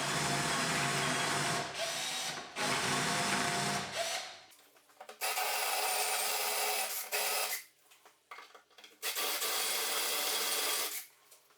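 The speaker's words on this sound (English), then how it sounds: "I have now switched over to a flat wood bit and I'm drilling roughly halfway through the worktop." A flat wood bit bores roughly halfway into a kitchen worktop, giving loud, coarse grinding and rasping in several bursts separated by short pauses, with no talking.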